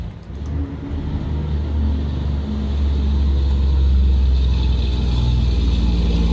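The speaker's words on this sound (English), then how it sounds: "That's a big truck going by." A big truck driving past outdoors, a deep rumbling engine swelling steadily louder over six seconds as it approaches, close and continuous, with no talking.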